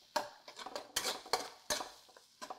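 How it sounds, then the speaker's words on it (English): A utensil stirs aromatics with douban jiang bean paste in a pan, making a series of distinct metallic scrapes and clinks in an uneven rhythm, close and fairly quiet, with no talking. "Stir all the aromatics for a couple of minutes to activate the douban jiang flavor."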